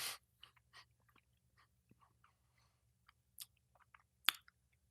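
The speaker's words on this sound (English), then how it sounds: "Okay, I'm still chewing it." Close, wet chewing of caramel candy with sticky smacks and squelches, irregular bites and pauses, a few louder clicks near the end, alone in a quiet room.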